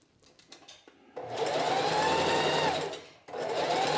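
A sewing machine stitches curved fabric seams. It runs as a loud, steady motorised whir that starts after a few light clicks, holds for about two seconds, stops briefly, then starts up again.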